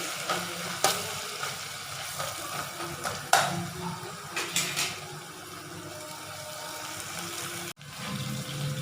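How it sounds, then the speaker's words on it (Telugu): Ginger garlic paste frying and being stirred in a pan, with a steady low sizzle and intermittent scraping clicks from the spoon, close by with no talk. "అల్లం వెల్లుల్లి పేస్ట్ పచ్చివాసన పోయే వరకు కలపాలండి."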